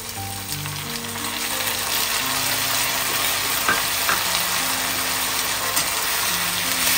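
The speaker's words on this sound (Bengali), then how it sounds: "এবার আমি এই যে পেঁয়াজ, আদা, রসুনটা বেটে রেখেছিলাম ওটা দিয়ে দিচ্ছি।" Onion, ginger and garlic paste fries in a pan, giving a steady, even sizzle throughout with faint scraping from stirring and no voices.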